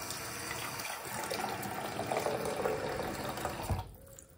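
A bathroom tap runs water into a sink, a steady splashing stream that fills the space for several seconds before cutting off near the end, with no voices.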